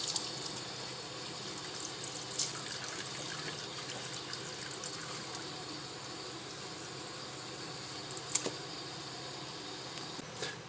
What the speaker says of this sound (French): rincez toute la surface traitée à l'eau, à la grande eau